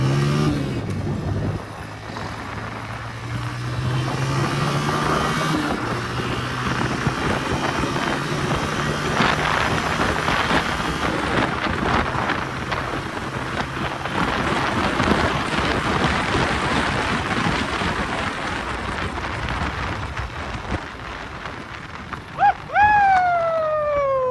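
Continuous engine drone of a moving Honda motorbike ridden without a helmet, heavy wind rush throughout, ending in a few quick rising tonal chirps.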